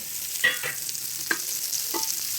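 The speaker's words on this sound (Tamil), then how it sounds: "இது வந்து மீனையும் தவாவில் போட்டேன். வதக்கட்டும்." Fish frying on a tawa, a bright hissing sizzle at close range punctuated by a few distinct taps and scrapes of a utensil, with no talk.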